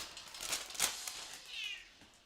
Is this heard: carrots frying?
no